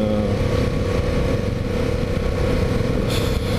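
A Yamaha MT-07 motorcycle being ridden on roads in Thailand, its engine droning steadily and close with a low throbbing rumble and a rise in pitch near the end, no talk over it.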